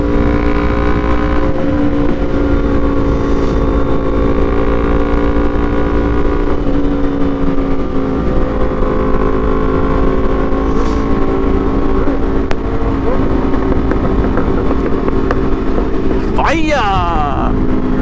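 A Suzuki GSX-R750 and a Kawasaki ZX-10R sport motorcycle rumble steadily nearby with a loud, continuous engine drone and slight rises in pitch, under faint background noise.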